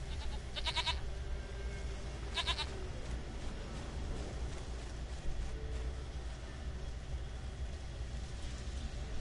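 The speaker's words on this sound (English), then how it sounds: "Goat of mine, dearest," A goat in The Witcher 3 bleats in two short, quavering bursts early on, heard over a steady low game ambience and background rumble, then quiet apart from the hum.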